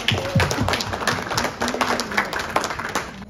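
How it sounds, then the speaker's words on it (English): An audience at a Diwali gathering gives a round of applause, a dense patter of many hands clapping at once for a few seconds, with a low murmur of voices underneath. "Give her a round of applause"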